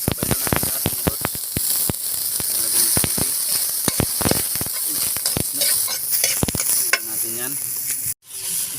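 Aromatic ingredients sauté in a frying pan over a very strong flame, giving a steady loud sizzle punctuated by sharp clacks of a utensil stirring the pan.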